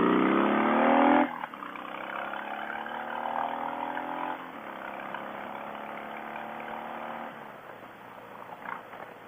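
A car engine pulls hard in first gear on a residential road, rising in pitch through several revving climbs with brief dips between, loud at first and then settling to a steadier drone.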